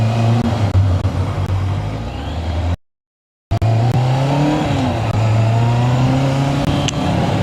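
A Honda Africa Twin motorcycle riding along with a steady engine drone and road rush, cut by a brief drop to silence before the engine noise resumes.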